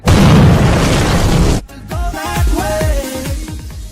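A loud bomb explosion sound effect, a sustained roaring blast that abruptly cuts off and is followed by rumbling, crackling debris and tonal ringing.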